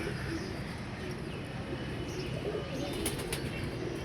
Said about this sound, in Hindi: ये माशाल्लाह जी बैठ गया कबूतर जी हमारा।